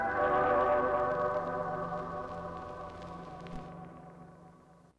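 A sample played from a vinyl record at 45 RPM gives sustained, tonal music with faint crackle and an occasional pop, moderately quiet, gradually fading toward the end.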